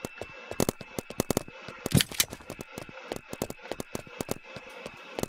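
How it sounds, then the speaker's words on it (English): A minigun fires in a video game in rapid rattling bursts, with dense, loud, sharp shots broken by brief gaps. "I'm bringing up the minigun"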